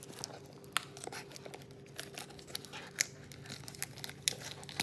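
Plastic shrink wrap on a Matchless Fighters trading card booster box crinkles and crackles in quick, irregular bursts, close by and fairly quiet, with no talking.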